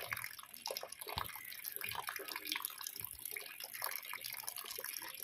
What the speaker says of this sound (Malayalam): ഈ വെള്ളച്ചാട്ടത്തിൽ നിന്ന് ഇങ്ങനെ വന്ന വെള്ളം പൈപ്പിൽ കളക്ട് ചെയ്ത് ഓരോ വീടുകളിലേക്ക് ഇങ്ങനെ പോയിട്ടുണ്ട്